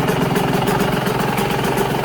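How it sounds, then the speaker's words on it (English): A two-stroke dirt bike engine running on 25:1 premix idles steadily and close, a loud continuous buzzing burble with an even rhythm and no talking. "you let your bike idle like that"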